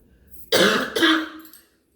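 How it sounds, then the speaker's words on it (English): Two quick, harsh coughs close to the listener, one right after the other, followed by silence. "as you can hear, that cough is potentially allergies"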